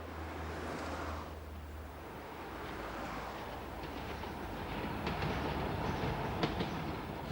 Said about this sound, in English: This is the Metro, Newcastle's gleaming new local railway system